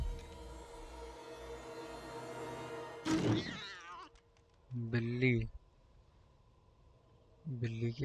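A cat in the video game Little Hope gives two short, clear meows in a quiet stretch after a steady background drone cuts off, with a brief burst of other sound just before them.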